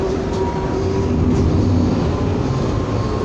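Steady rumble and hum of a Calgary CTrain Red Line light rail car riding southbound, constant low-frequency rolling noise with a faint tonal whine, heard from inside the car, with no talking.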